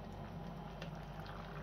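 Freshly boiled kettle water is poured into a noodle pot, a soft, steady gurgling stream heard close and continuous at low level.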